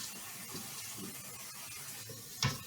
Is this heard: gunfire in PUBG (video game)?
no